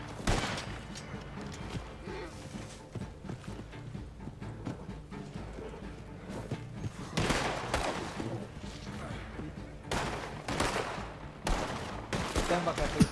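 Pistol gunfire in a roleplay video game, rapid bursts of shots crackling over a busy background, moderately loud with louder clusters near the middle and end.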